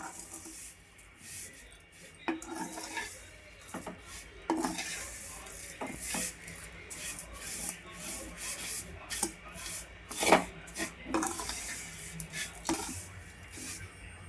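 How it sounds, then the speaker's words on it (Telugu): Vermicelli (semiya) being stirred while frying in a pan, an irregular scraping and rubbing of a utensil against the pan with occasional sharper clinks, close and moderately loud, alone. "ఇలా మెల్లగా కలుపుకుంటూ ఫ్రై చేసుకోవాలండి."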